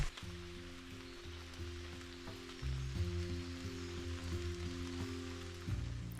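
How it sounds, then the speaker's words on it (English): Steady rain pattering and hissing through a leafy woodland canopy, a constant soft wash of drops beneath a low, repeating musical backing. "it is still raining"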